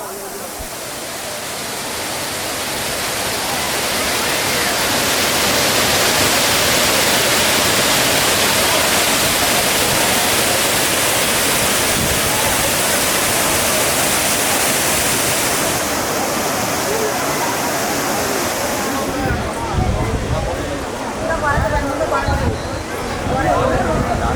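A steady, powerful roar of Kuttalam Waterfalls fills the whole stretch, broad and unbroken, with a faint murmur of voices beneath it.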